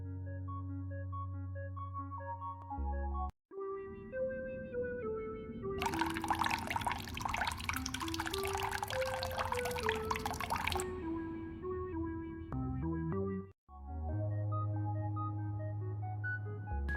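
Spilled coffee gushes out in a video game: a steady, broadband pouring wash lasting about five seconds in the middle, set over continuous tonal game music with no talking.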